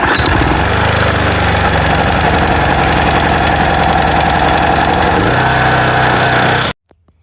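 A Honda lawn mower engine fires up and runs loud and steady, its mid-pitched drone holding, dipping briefly in pitch near the end, then cutting off abruptly into quiet.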